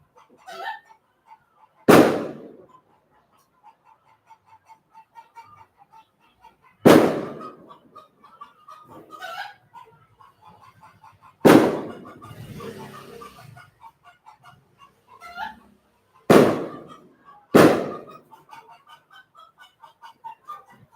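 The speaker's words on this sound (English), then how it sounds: "I'm assuming that's fireworks, but it sounds like explosions going off" Fireworks or possible explosions heard from outdoors, five sharp booming blasts spaced several seconds apart, each rolling off into a decaying echo, with faint rooster and bird calls between them.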